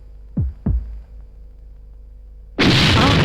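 A kitchen explosion effect in a comedy film scene: two short low thumps, then a sudden loud, sustained burst of noise that fills the last second of the clip, with no talk over it.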